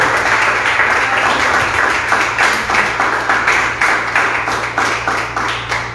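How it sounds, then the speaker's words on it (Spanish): A church congregation claps together in loud, sustained applause, close and full, with a rhythmic pulse running steadily throughout and no voices standing out. "Dale un aplauso fuerte al Señor."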